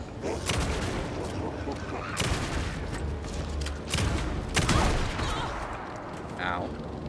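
Gunfire in Alan Wake 2, several loud, close shots spaced a second or two apart over a murky, rumbling game soundscape.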